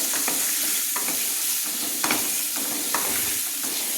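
Kohlrabi and potato pieces seasoned with salt and turmeric are stirred in a hot pan, a steady close sizzle with repeated scraping strokes of the spoon at a loose rhythm, no voices.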